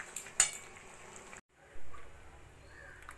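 Beetroot carrot soup ladled into a serving bowl after the gas is turned off, with a sharp clink of metal on dish early on, then soft scraping and light pouring sounds, close and fairly quiet.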